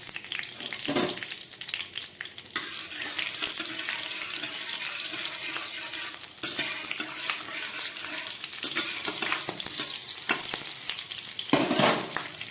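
Fish frying in hot oil seasoned with fenugreek and radhuni, with green chillies added, gives a steady close sizzle and crackle throughout, with occasional clinks and stirring noises and no talking.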